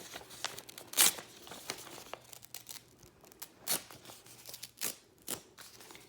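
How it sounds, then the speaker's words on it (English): Origami paper being carefully torn along a fold, heard as a series of close, crisp tearing and crinkling bursts with quiet gaps between them. "I'm going to very carefully tear off that extra piece."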